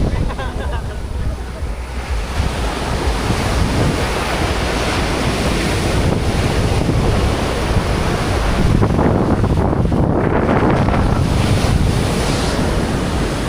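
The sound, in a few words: big ocean waves breaking on the beach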